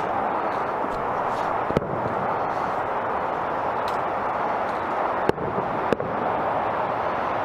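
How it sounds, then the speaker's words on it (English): Fireworks burst outdoors at a dance event, with a constant rumbling wash of distant explosions and a few sharper, louder cracks standing out from the steady roar. "Hopefully you can see the fireworks in the background"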